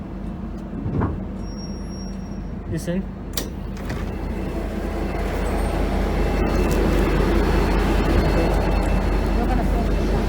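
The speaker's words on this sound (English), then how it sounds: "Right train's still moving, you can see inching up to the platform" A V/Line H set passenger train inches up to the platform toward Bacchus Marsh. A low rumble builds and swells steadily, a few clunks come early, and a person speaks briefly near the start.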